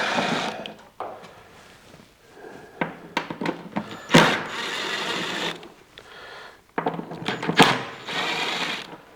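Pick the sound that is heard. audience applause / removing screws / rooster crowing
removing screws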